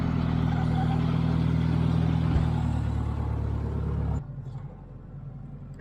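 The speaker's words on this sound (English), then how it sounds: "the landy crawled down easily with the trailer in tow" A Land Rover towing a trailer crawls down a rough, holey outback track, its engine a steady, close, loud low rumble with clatter that drops off sharply near the end.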